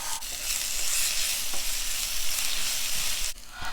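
Masala and mint leaves fry in a hot pan with a loud, steady, close sizzle. A spatula stirs and scrapes through it, giving a sharp clack near the end, and no one is talking.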